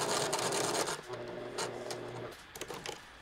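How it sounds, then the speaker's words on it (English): A sewing machine stitches a vest, a steady mechanical whir running for about a second, then slowing and stopping as the needle is set down at a corner, followed by a few soft handling rubs. "Put your needle down as you get to the corner."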